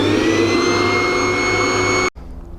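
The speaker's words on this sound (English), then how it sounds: "If we turn the vacuum cleaner on," A vacuum cleaner runs with a steady, loud drone and a high whine, used to pull a drawstring through boat wiring conduit, then cuts off abruptly.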